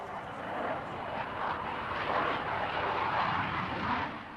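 An airplane passes near Heathrow airport in London as a broad, rumbling roar that swells and holds steady for several seconds, then eases slightly. It is heard alone and moderately loud.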